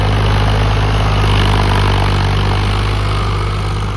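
A steady, loud tractor engine drones continuously at close range during a cultivator pulling power test, a low rumbling idle with a constant hum and no voices.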